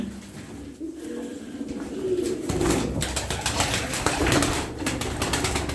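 Tumbler pigeons coo in a loft, soft throaty rolling calls repeating near and far over a busy background of rustling and faint wing flutters.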